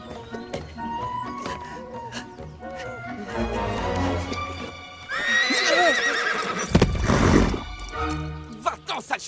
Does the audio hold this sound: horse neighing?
yes